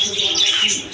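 Small birds chirp and tweet inside an enclosed bird shop at a market, a dense, steady chorus of high twittering that continues without pause.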